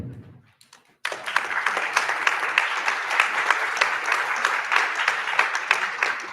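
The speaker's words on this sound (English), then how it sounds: "a big applause for Mrs. Constance" Audience applause at a European Jewish association conference, beginning abruptly after a brief moment of quiet and continuing as steady, dense clapping from a large crowd.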